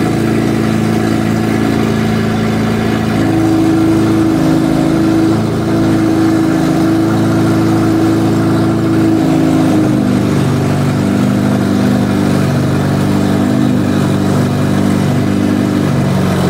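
Lada 2109 engine running after starting, a loud steady idle with a low rumbling hum that holds throughout, with slight shifts in pitch and no talk.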